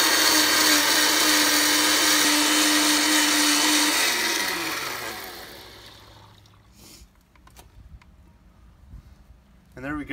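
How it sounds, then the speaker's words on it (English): Close by, a blender whirs loudly while pureeing eggshells, its motor whine steady for a few seconds before spinning down and fading to quiet, followed by a few faint clicks and rustles. "And we're now going to close it and blend it."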